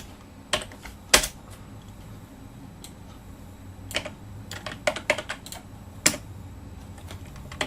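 Scattered keystrokes on a computer keyboard while writing code, close and crisp, coming in irregular single clicks and short clusters over a quiet background.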